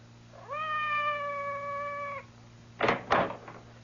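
A cat meows once outside a door in an old-time radio mystery drama, a clear drawn-out cry followed by two quick knocks or thumps, no voices over it.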